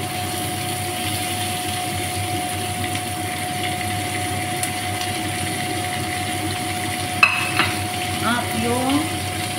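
Onion fries in a pan with a steady, even sizzle throughout, joined near the end by a brief clink and scrape of a utensil.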